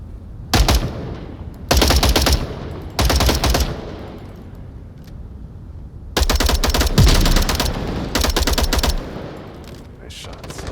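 Pistol gunfire in a competitive team shooter finals match, several rapid loud bursts of shots with gaps between, close and dominant over faint background.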